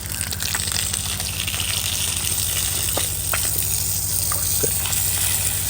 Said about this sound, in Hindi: पहले इस साइड को धो के फ्रंट वाला जो है ना वो दूसरे पाइप के साथ धोता हूँ